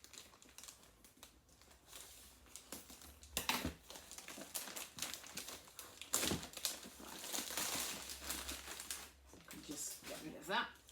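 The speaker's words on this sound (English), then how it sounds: "I'm going to be taking a pair of scissors and I'm going to remove this outside packaging." Close crinkling and crackling of plastic outer packaging being cut off a nativity advent calendar, with sharp scissor snips and rustles in bursts alongside a speaking voice.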